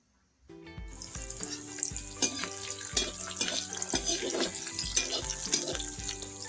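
Onions frying in oil with whole spices, ginger-garlic paste and a bay leaf, a continuous bright sizzle after a brief silent start, with repeated spatula knocks and stirring clatter against the pan.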